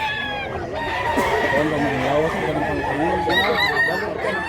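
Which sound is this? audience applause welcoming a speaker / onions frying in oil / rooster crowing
rooster crowing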